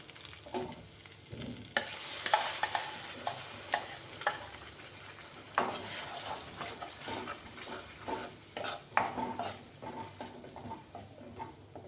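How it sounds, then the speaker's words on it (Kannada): Ground onion-tomato paste fries and is stirred in a hot pan, a steady close sizzle broken by repeated scraping and clicking strokes of a spoon, with no talking. "ಸ್ವಲ್ಪ ಹಸಿ ಸ್ಮೆಲ್ ಹೋಗೋವರೆಗೂ ಫ್ರೈ ಮಾಡ್ತೀನಿ ನಾವೇನು ಫ್ರೈ ಮಾಡಿ ಇಟ್ಕೊಂಡಿದ್ವಲ್ಲ ಈರುಳ್ಳಿ ಟೊಮೊಟೊ ಇದನ್ನ ರುಬ್ಬಿಟ್ಕೊಂಡಿದ್ದೀನಿ ಇದನ್ನು ಸೇರಿಸ್ತಾ ಇದ್ದೀನಿ"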